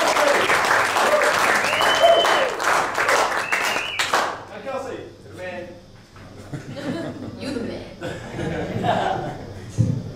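Audience applause for a singer at an annual cultural showcase, with clapping and some chuckles over the first few seconds before it thins out, and talking continuing afterward.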